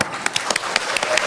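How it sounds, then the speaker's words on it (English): Audience applause welcoming dancers at a vegan organic climate event, a short burst of scattered, moderately close claps with uneven rhythm. "Let us welcome our dancers with a warm applause."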